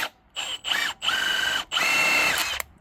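A power tool driven by an air compressor spins out a 17 mm bolt on the rear suspension of an Infiniti Q50, in four loud whirring and ratcheting bursts separated by short pauses.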